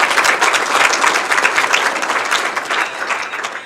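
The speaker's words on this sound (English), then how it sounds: "Let's give them all a nice big round of applause." A banquet crowd at a 2024 touchdown club hall of fame event applauds steadily for several seconds, a dense, loud wash of clapping that slowly tapers.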